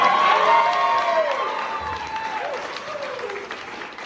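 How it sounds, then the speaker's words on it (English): Wedding guests at a best man's speech break into loud, sustained applause mixed with cheers and whoops, gradually thinning toward the end. "Round of applause."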